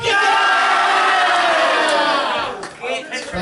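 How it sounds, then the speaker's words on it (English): A crowd at a rugby club awards dinner lets out a big sustained cheer and whoop, loud and close, trailing off into scattered shouts and chatter at the end. "You gotta do a big cheer, right?"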